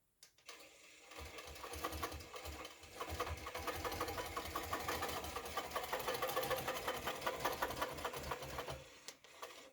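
A sewing machine stitches fabric in a fast, steady mechanical whir with a rapid needle rhythm, close and fairly quiet, starting up, running continuously, then stopping.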